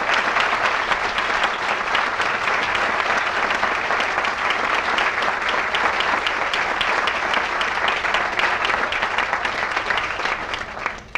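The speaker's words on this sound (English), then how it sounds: "give a round of applause to the Becker Blue, all of the students who are out there" An audience at a Becker College building dedication and ribbon cutting applauds the Becker Blue students, a dense, steady wash of many hands clapping at full strength for about eleven seconds before tapering slightly at the end.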